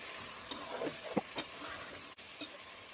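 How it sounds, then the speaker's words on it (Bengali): Chicken stirred in hot oil for biryani gives a soft, fairly quiet sizzle, with a few brief spatula scrapes and clicks at irregular intervals. "ভালো করে আমি তেলের সাথে একটু ভেজে নিব।"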